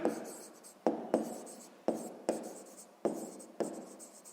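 Pen or pencil writing out a sixth-grade math solution by hand, close and alone: a steady scratchy scrawl broken by about six sharp taps as strokes start or the pen lifts and lands.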